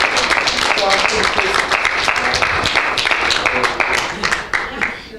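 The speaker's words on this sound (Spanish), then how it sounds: "Y denle un aplauso al Señor" Church congregation clapping in applause, a dense sustained burst of many hands that thins and fades toward the end.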